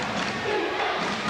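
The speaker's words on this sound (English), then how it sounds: "The crowd yelling for defense" A high school basketball crowd at Arlington roars through a tense late-game defensive stand against Waltham, a dense, steady wall of yelling voices filling the gym without a break.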